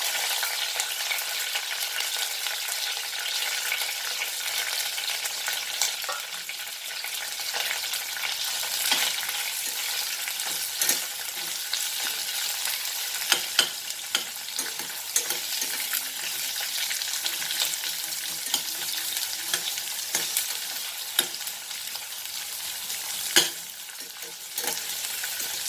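Onion frying in a pan with browned meat for a Goan beef roast, a steady bright sizzle lasting the whole time, broken by occasional stirring scrapes and small pops, with no talk.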